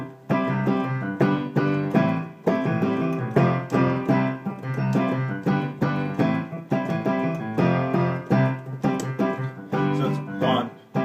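Guitar strumming the chord progression of a song, a close, steady series of strummed chords with abrupt cutoffs and syncopated accents, played alone without talking.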